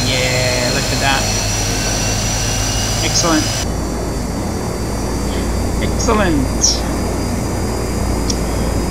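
A Shorts 360 turboprop engine spools up during a start in the Prepar3D flight simulator, a steady droning whine with rising tones under a man's brief spoken remarks.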